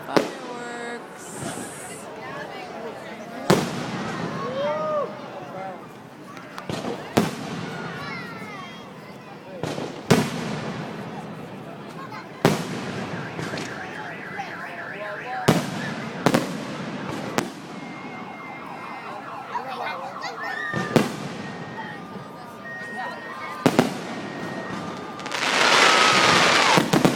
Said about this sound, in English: Here's some fireworks.